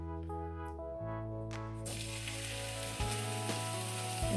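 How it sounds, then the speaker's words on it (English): Hot olive oil sizzles steadily as fish lands in the pan, a broad crackling hiss that swells louder partway through, with faint tonal hum underneath. "Now that my olive oil is heated up, it's nice and shiny, I'm gonna put my fish on."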